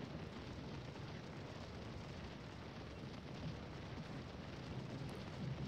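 Scourge of War: Gettysburg battle din, with Civil War artillery and rifle fire from a fence line blurring into a low, continuous rumbling roar, fairly faint and distant, with no distinct individual shots.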